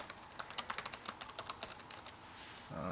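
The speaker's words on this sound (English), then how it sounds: "you type direct message in, or you select direct, and then you can begin typing the name of the person" Rapid, uneven keystrokes on a computer keyboard as a direct message is typed, close and fairly quiet, running in short bursts before a louder rustle at the end.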